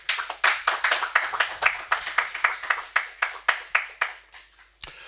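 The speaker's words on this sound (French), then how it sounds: "Applaudissons pour la gloire de Dieu" A church congregation claps in unison to a steady, even beat, about three claps per second, crisp and fairly close, pausing briefly before a final clap.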